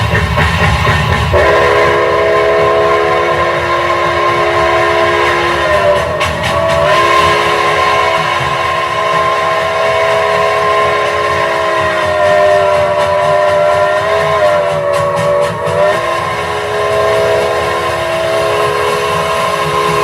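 An air chime locomotive whistle from the 5-spot, fitted on the 16 at Ladysmith, sounds a steady multi-tone chord that starts near 1.5 s and holds for most of the clip, dipping and swelling briefly around 6 and 15 seconds, loud over a low rumble.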